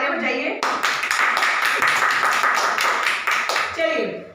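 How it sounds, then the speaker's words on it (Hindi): A small audience claps at a Vestige business-plan presentation, with crisp, distinct claps in a quick, uneven rhythm for about three seconds, close and loud, and a voice speaking just before and after. "अपने लिए जोरदार तालियां बजाइए।"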